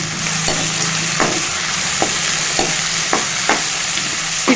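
Spinach, green peas and spring onion curry sizzles steadily in a pan while a spoon stirs it, giving a constant loud frying hiss with a few sharp, irregular scraping clicks and no talk.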